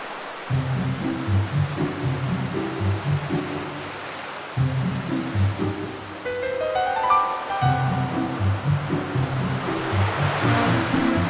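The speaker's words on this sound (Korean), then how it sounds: "파도가 밀려오는 순간" Ocean surf rolling onto the rocky shore of Christmas Island, a steady wash of breaking waves with swelling surges, joined midway by a rising tonal sweep and some low pulsing.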